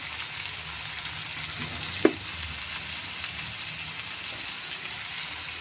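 Spices with ginger paste and chili powder fry in oil for a curry, giving a steady, soft sizzle throughout with one brief sharp click near the middle.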